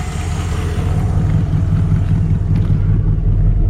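Engine of a 1964 Ford Fairlane 500 idling, a loud, close, steady low rumble with an even throb continuing unbroken for several seconds, no voices.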